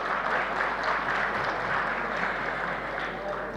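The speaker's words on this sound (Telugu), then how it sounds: "టెక్నీషియన్స్కి గట్టిగా ఒకసారి చప్పట్లతో స్వాగతం పలుకుదామా" An audience at a film pre-release event applauds to welcome the cast, crew and technicians, a dense, sustained wash of clapping from a large crowd.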